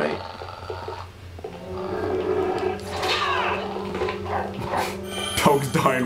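Dogs barking and snarling in the video game Fragile, several sharp barks and growls over a few seconds mixed with game sounds, with someone talking over them.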